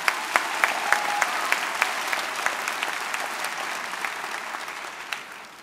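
Graduation audience at Merrillville High School applauding: a dense, steady round of clapping from a large crowd, loud at first and slowly tapering across several seconds.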